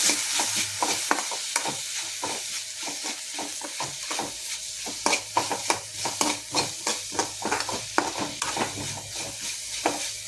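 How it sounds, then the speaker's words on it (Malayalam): Garlic-ginger paste frying with onions in a pan, a steady sizzle broken by quick, repeated scraping strokes of a spoon stirring it, close up and fairly loud, with no talking. "എന്നിട്ട് വെളുത്തുള്ളി ഇഞ്ചി പേസ്റ്റിൻ്റെ പച്ചമണം മാറണവരൊക്കെ ഒന്ന് നന്നായിട്ടൊന്ന് ഇളക്കണം"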